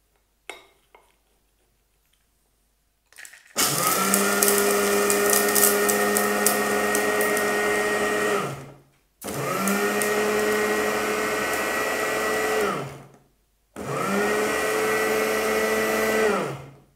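A kitchen grinding machine crushes argan seed shells in three loud bursts. Each is a rough, rattling grind over a motor whine, and between them are short silent pauses, with clicks before the first run.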